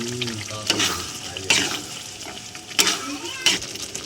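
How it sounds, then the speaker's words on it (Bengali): Spiced masala with water and green peas sizzles and bubbles in a pan for a paneer dish, with a steady frying hiss broken by a few sharp stirring scrapes, close up, without speech. "জলটা দিয়ে দিলাম মটরশুঁটিটা দিয়ে দিলাম"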